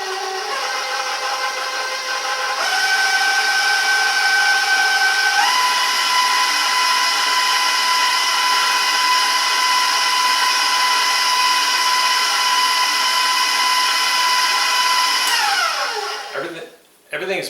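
An electric hand mixer whirs steadily through blueberry coffee cake batter, its motor pitch stepping up twice as speeds change, running loud and close for about fifteen seconds before winding down and clattering briefly at the end.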